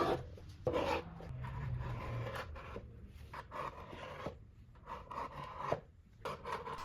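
Sandpaper rasps steadily over a painted wooden apothecary cabinet, a close, quiet scraping and rubbing texture that continues without speech.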